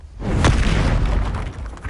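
A heavy, booming blast from the Confringo fire spell in the Hogwarts Legacy video game, a single loud explosion with a sharp onset and a long rumbling tail.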